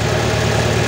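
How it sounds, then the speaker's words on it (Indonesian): A car engine idles loudly and steadily at close range, a continuous low rumble with no change in pitch and no speech. "Oke, kita matikan mesinnya."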